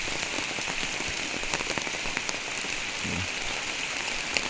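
Heavy rain pours steadily on a village as the rainy season arrives, a dense, constant hiss of drops on surfaces with scattered louder splats and a brief low thump near the end, no voices.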